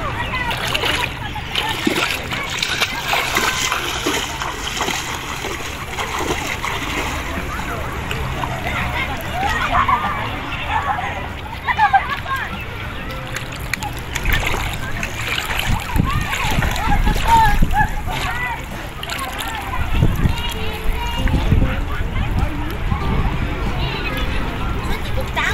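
Splashing and sloshing of people swimming in the sea, with steady broadband water noise throughout and occasional voices of children and others in the background.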